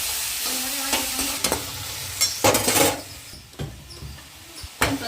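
Onions and tomatoes fry in hot oil with a continuous sizzle, broken by scraping stirs and a few louder strokes, heard close with no voices.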